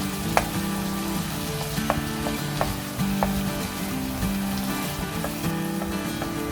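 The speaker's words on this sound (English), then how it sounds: "Then add pork. Stir fry until the meat brown." Pork sizzles and fries steadily in a hot pan while being stir-fried for Korean curry rice, with light scraping and stirring clicks throughout, close and continuous with no talk.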